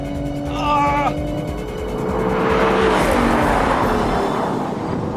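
Powerful car engines roar at full throttle, their pitch climbing as they race close by, with a loud, sustained rush of noise toward the end.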